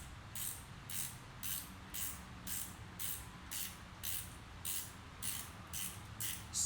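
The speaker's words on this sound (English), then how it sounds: "put the right wrench on it, and start tightening it up" A wrench ratchets a locking transmission dipstick fitting tight on a Dakota/Ram, giving a steady series of about a dozen evenly spaced clicking strokes, close and moderately quiet.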